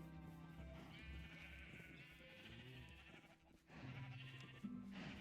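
Sheep bleating in Minecraft during a game stream, several drawn-out bleats rising and falling over a soft steady backdrop, fairly quiet with no talk.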